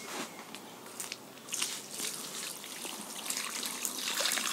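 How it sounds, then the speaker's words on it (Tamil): Water poured onto a wet sack laid over a cow dung earthworm bed, giving close, irregular trickling and crackly splashing bursts that continue throughout at a fairly soft level, with no voices. "அதுக்காக தான் வந்து நம்ம இந்த சாக்கை போடுறோம், தண்ணி ஊற்றுறோம்"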